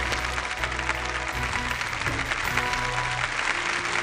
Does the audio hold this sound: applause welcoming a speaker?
yes